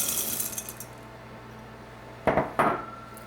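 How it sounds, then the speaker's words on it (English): Chocolate chips clatter into a bowl in two quick bursts, a short rattling pour against quiet kitchen background. "Now the chocolate chips."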